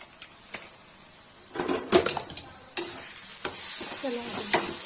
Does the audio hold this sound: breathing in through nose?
no